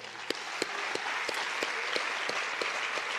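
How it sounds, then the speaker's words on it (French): Audience applause at a closing lecture and prize ceremony, honouring the volunteers: a steady bed of clapping with a few sharp, louder claps standing out at regular intervals near the microphone. "Les bénévoles, on peut tout de suite leur faire un tonnerre d'applaudissements."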